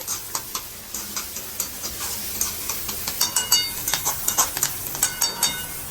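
Noodles being tossed and stir-fried in an ordinary home kadhai make a bright sizzle with rhythmic metallic scrapes and clinks of the utensil against the pan, close and without any talk.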